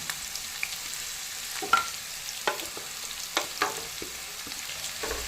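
Chopped onion and green chilies fry in a pan with a faint background sizzle, broken by several sharp clatters and scrapes of a spoon stirring, close up and without speech.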